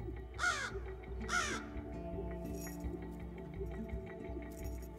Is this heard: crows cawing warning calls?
yes